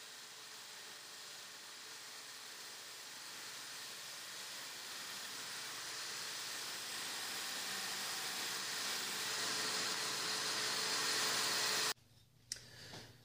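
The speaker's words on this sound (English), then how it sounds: "And I'm going to take that to the bandsaw." A bandsaw cutting a guitar neck heel gives a steady, broad whine and hiss that slowly grows louder for about twelve seconds, then stops abruptly with a brief clatter afterward.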